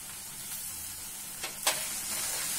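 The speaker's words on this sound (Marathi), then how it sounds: "पेस्ट आपल्याला चांगली फ्राय करून घ्यायची, जेणेकरून लसणाचा कच्चेपणा नाहीसा होईल." Onion and ginger-garlic paste fry in a pan with a steady, close sizzle and a couple of brief louder spits and crackles partway through.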